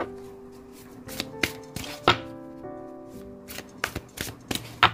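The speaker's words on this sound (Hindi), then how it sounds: "चलो करते हैं कार्ड्स की शफलिंग" A deck of tarot cards is shuffled up close, giving crisp riffling flutters and sharp taps in an irregular rhythm.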